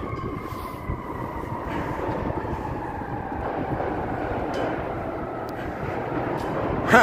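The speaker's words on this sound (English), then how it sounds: "There goes the train." A train passes along the Chicago Riverwalk on a clear, cool day, its steady low rumble and rolling clatter filling the whole stretch at moderate distance, ending with a brief louder squeal near the end.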